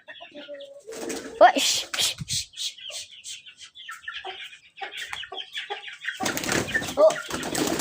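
Pigeons flap and flutter in bursts, wingbeats mixed with clucking calls and scattered rustling, with a loud flurry of wings near the end.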